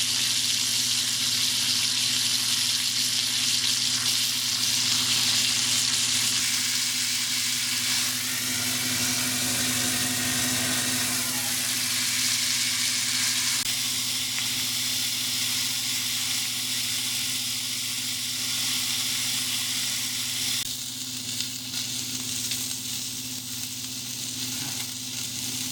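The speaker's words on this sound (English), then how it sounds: "next we put some butter in the pan in order to sear the meat over there" Meat searing in butter in a very hot frying pan for a French onion pot roast, giving a steady, close, loud sizzle and hiss that runs unbroken throughout with no talking.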